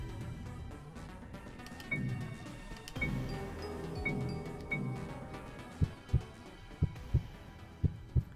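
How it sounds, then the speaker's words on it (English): Loud, close heartbeat from a video game, a run of heavy low thumps paired in double beats over a dark ambient hum, growing more pronounced and regular toward the end. "This heartbeat's loud in my ears."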